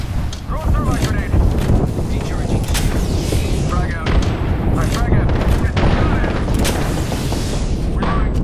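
Heavy gunfire and booming blasts roar through a video game squad shooter, dense, loud and continuous, with sharp shots layered over rumbling explosions and wind-like noise while a player talks.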